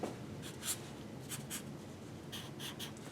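A pen scratches across paper while blackening in small cartoon hands, with brief scratchy strokes coming in quick bursts over a quiet background.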